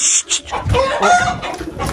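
A hen clucking and calling close by while breaking eggs, a busy run of short fowl sounds with some rustling, no talk.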